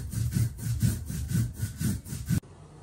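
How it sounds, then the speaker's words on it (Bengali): Cumin, poppy seeds and mustard being ground on a grinding stone, a loud rhythmic back-and-forth rubbing of about eight strokes that stops abruptly near the end, with no talk. "এই যে এখন জিরা, পোস্তদানা আর এই সরিষা বাটা, এটা এখন বেটে নিব সুন্দর করে"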